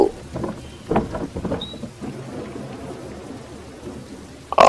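Steady rain patters close by while thunder rumbles and cracks in short bursts, with no voices.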